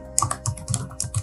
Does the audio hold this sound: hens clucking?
no